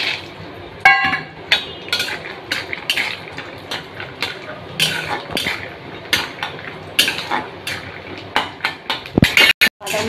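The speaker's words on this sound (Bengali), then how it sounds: "বাদামটা প্রায় ভাজা হয়ে গেল।" Peanuts frying in a wok in white oil, with repeated metallic scraping and clinking of a spatula against the wok over a low sizzle, close and irregular.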